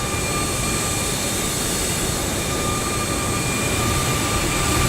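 An airliner lands at Kuala Lumpur airport in Microsoft Flight Simulator 2024. Its jet engines make a loud, steady roar that holds at the same level the whole time, with no other sounds over it.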